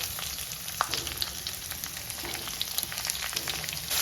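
Okra and onion frying in hot oil with dried chili and curry leaves, a steady close sizzle with faint stirring clicks throughout, no voices.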